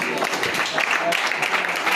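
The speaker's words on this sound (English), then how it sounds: "A mighty hand of applause" Applause from students at a Christmas party: a dense, steady patter of many hands at moderate loudness, with crowd chatter mixed in throughout.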